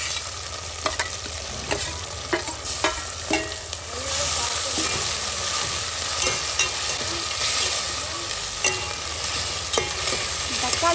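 Onions and tomatoes sauté in a pan with a steady, close sizzle, punctuated by sharp spatula taps and scrapes in the first few seconds; no one speaks.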